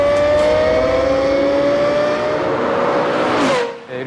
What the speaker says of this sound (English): The sound of the LFA is unique,